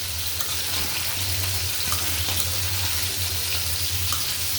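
Okra stirred into a simmering hilsa fish curry in a pan, a continuous sizzle and bubbling hiss with soft scraping, steady and close, no talk.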